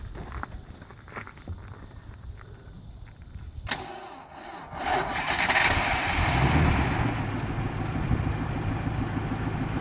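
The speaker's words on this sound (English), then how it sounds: "I'll start the engine up for you." An old, untuned straight-eight car engine cranks and catches after some handling noises, then settles into a steady, rumbling idle close by.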